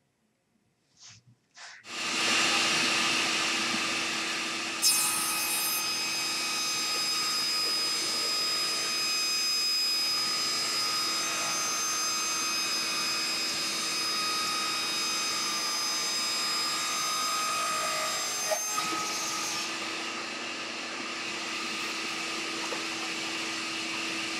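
A table saw rips wooden dowel holders for a parts storage rack down to a 1.5 inch width, its steady high whine running loud and unbroken for about fourteen seconds after a few clicks at startup.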